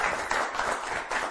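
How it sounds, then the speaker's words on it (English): An audience at a magic performance applauds in a dense, continuous burst of many hands clapping together, steady and fairly full throughout. "So let's give them a round of applause."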